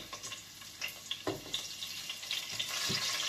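Garlic fries in a hot pan, crackling in small sharp pops over a rising hiss that grows louder and denser toward the end.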